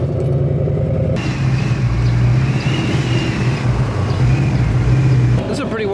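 A wide car's engine rumbles steadily at close range as it creeps onto a low Timpte 720 car-hauler trailer, the tone shifting slightly as it moves up the ramp.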